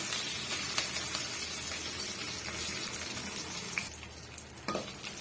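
Dried red chillies and curry leaves fry in oil for a drumstick-leaf rasam, a faint continuous crackling sizzle with a couple of light knocks and a quieter stretch near the end.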